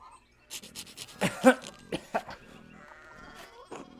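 Sheep in the medieval-set video game Pentiment give a few short, nasal bleats, the loudest near the middle, over quiet ambient game sounds.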